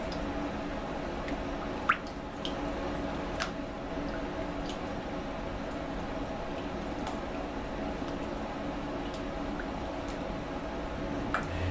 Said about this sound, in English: I'm going to go ahead and kind of mix this together just a little bit